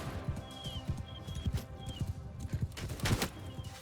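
Hooves of cavalry horses pounding in a rhythmic clip-clop during a samurai-era video game battle, with occasional high whinnies over the steady galloping.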